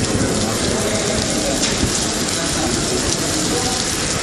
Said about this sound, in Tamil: கோரிப்பாளையம், அண்ணாநகர், மாட்டுத்தாவணி, சிம்மக்கல், பழங்காநத்தம், காலவாசல், ஆரப்பாளையம் உள்ளிட்ட பல்வேறு பகுதிகளில் கனமழை பெய்தது.